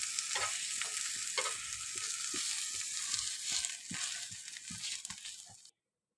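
A flipped pesarattu, the Andhra green gram dosa, fries on a hot pan with a loud, constant close-up sizzle and a few scraping clicks before it cuts off abruptly.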